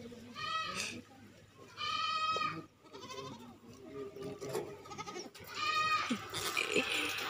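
Baby goats bleat in several loud, wavering cries, with an adult goat nearby on a farm in India; someone talks between the bleats.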